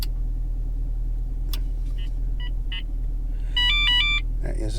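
Electronic alert tones from a mirror-mounted hardwired radar detector, a few short chirps followed by a louder rising run of beeps, over a steady low car-cabin rumble.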